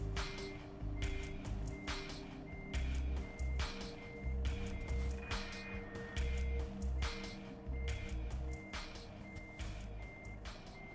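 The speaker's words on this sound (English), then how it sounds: "And then back into reverse and just try and get that trailer lined up a bit better." A truck backing a trailer in Euro Truck Simulator 2, with a steady repeating reversing beep of about one per second over a low, rumbling diesel idle, close and continuous.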